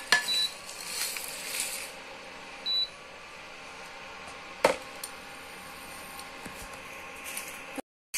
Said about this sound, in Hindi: मसाला भुन गया है, अब हम इसे प्लेट में निकालेंगे।